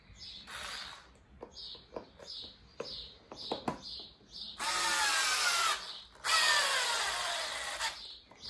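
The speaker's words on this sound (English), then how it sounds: "I'm just going to hold the T-nut in place with my thumb while I drill this in." A power drill whirs in short bursts, then runs in two longer sustained pushes as a screw is driven through a T-nut into a soccer cleat sole, close and loud.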